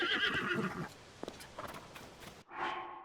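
A horse in the video game Zelda Tears of the Kingdom gives a bright whinny, then hooves clip-clop faintly before a short snort-like neigh closes it, no talk.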